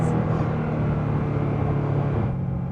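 A car engine drones steadily and loudly at a constant pitch, with no clear rise or fall in revs, fading slightly near the end.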